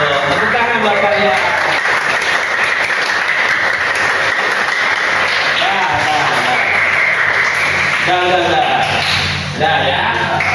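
A classroom applauding together, dense steady clapping filling the room for several seconds, with voices heard faintly underneath.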